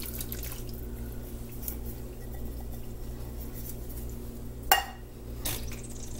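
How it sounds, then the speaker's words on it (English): Canned diced tomatoes with green chilies are poured into a pot for chili dip, giving soft, close wet drips and splashes over a low hum, with one sharper plop partway through. "Next, we'll add in our diced tomatoes and green chilies."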